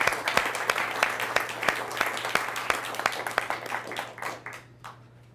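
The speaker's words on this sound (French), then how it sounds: "applaudissez pour moi s'il vous plaît" An audience applauding a speaker at an MIT lecture event, with dense, moderately loud clapping in a sizable room that thins out and fades near the end.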